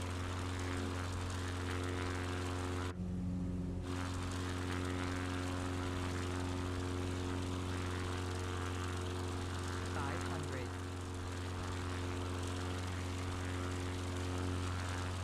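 A propeller plane engine in a flight simulator, a steady loud drone with a constant hum that runs almost unbroken for the whole stretch, briefly dropping out once, while someone talks over it.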